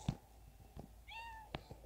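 A cat meows once in the Toca Boca video game, a short, faint, drawn-out call set among scattered soft taps and clicks, with no talking.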